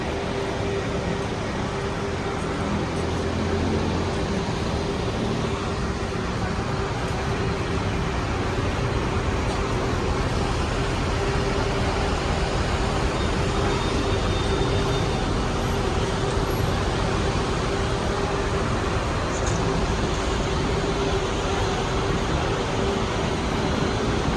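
Steady roadway traffic with buses idling and passing outside the main gate of SM City Clark in the Philippines, where a Genesis bus waits for passengers; a constant broadband rumble with a low engine hum throughout, no clear speech.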